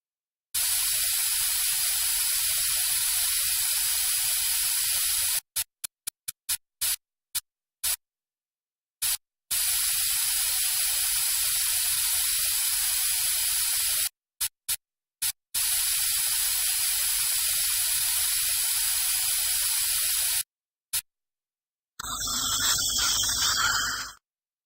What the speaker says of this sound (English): Can you spray them with water? I'll run the suction to remove the water.